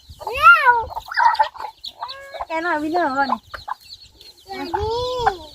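Chickens on a Thai farm clucking and squawking in rising, warbling calls, several close bursts in a row, with a person speaking quietly among them.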